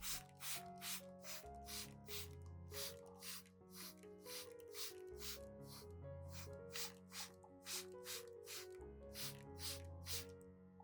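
Rapid bursts of spray from a spray bottle misting orchid leaves hiss in steady repeating groups over a continuous background of music, each spritz short and sharp.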